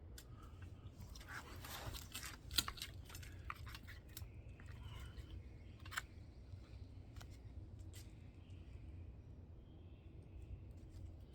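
A Morakniv fixed-blade knife with a 5.7-inch blade carves quarter-inch strips of red oak, close quiet scraping and crunching bites in an irregular rhythm, with a few sharper snaps over a low background hum.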